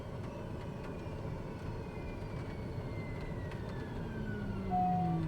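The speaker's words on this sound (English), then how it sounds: "engine failure. Aural warning, okay." An engine-failure aural warning in an aircraft flight simulator sounds as a steady electronic tone near the end, over a constant rumble of engine and rain noise.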